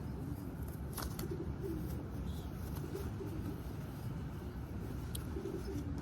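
Soft, low cooing of racing pigeons in a loft sounds through steady background noise, with a few faint flutters and chirps.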